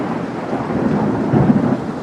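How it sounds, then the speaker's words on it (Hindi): Thunder from a storm rolls in a loud, sustained low rumble with rain hiss underneath, swelling briefly near the end, with no voices. "अचानक बिजली चमकी और बादल गरजे"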